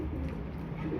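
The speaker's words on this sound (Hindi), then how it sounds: "ये हमारे पुराने कबूतर हैं और ये सुबह में लड़ रहे हैं" Older pet pigeons fight and coo in the morning, giving soft, low throaty cooing against a faint, steady background.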